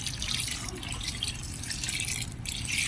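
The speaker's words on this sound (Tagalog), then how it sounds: "so lagyan natin ng konting sauce." Sauce poured into simmering chicken adobo in a pot, a close, steady liquid trickle and drip running throughout with no voices.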